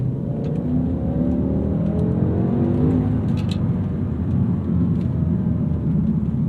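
The V10 engine of a 2008 BMW M5 E60 with manual transmission pulls hard under acceleration, its deep, rising drone heard from inside the car, loud and steady with no talking.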